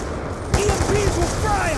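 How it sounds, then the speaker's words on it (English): Automated turret machine guns in Call of Duty Black Ops spray rapid, dense bursts of fire that continue without pause, with a sudden loud onset partway through and shouting voices layered over the clatter. "Fucking turrets got the area locked down!"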